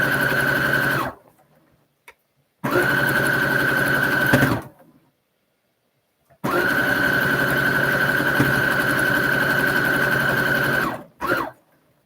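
A sewing machine stitches seams in two long runs of steady, rapid whirring, broken by quiet pauses and brief clicks of handling between them.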